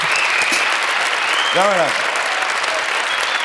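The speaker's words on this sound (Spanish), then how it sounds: "Un aplauso para la nueva generación" A television studio audience on a Spanish late-night talk show claps steadily in a loud, even wash of applause as a new guest is welcomed, while someone speaks briefly over it.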